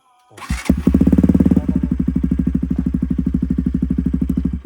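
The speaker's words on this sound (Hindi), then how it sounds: "तो हम चलाते बाइक को, वैसे थोड़ी साउंड करेगा हैं।" A motorcycle engine kicks to life and settles into a steady, loud idle, its rapid regular thumping pulses close by and unbroken.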